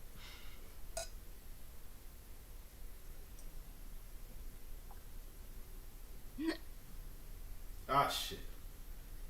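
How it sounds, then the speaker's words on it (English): A woman hiccups a few times in a quiet room, short sharp catches spaced several seconds apart against faint background hiss. "She got the hiccups from drinking."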